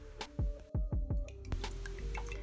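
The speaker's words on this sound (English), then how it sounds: "So here's our second round of straining" Ghanaian hausa koko porridge is strained through a sieve a second time, giving close, wet, low squishing plops in a quick run of four, followed by a softer dripping murmur.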